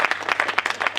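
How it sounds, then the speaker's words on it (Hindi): Audience at a Hindi poetry gathering claps briefly, a short burst of scattered, fairly close hand claps from a modest crowd. "और तालियां बजा सकते हैं।"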